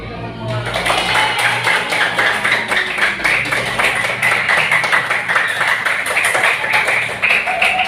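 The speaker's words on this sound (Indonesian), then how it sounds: "Tepuk tangan untuk kita semua." A classroom of elementary schoolchildren claps together after a school debate, a steady, dense patter of many small hands that keeps going for several seconds, with a voice briefly over it.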